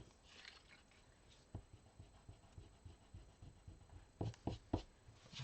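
An eraser rubs pencil lines off paper in soft, faint scrubbing strokes that build into a few louder brisk swipes near the end, with no talking.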